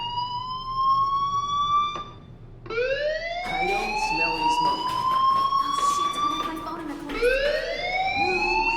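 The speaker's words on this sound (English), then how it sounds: "do you hear that fire alarm?" A school fire alarm in Life Is Strange Remastered wails in rising, siren-like sweeps. Each tone climbs and holds, then restarts after brief gaps, with faint talk in the background.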